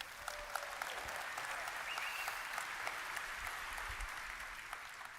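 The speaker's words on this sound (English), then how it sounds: "You guys deserve a hand of applause." A convention crowd at CitizenCon 2023, a Star Citizen event, applauding steadily throughout, a dense wash of clapping at moderate volume with a few sharper claps standing out.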